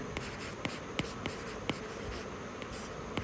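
A pen scratches across paper while drafting a formal Hindi notice in handwriting, producing soft, rhythmic strokes with sharper ticks at regular intervals. It is close and steady, with no voices.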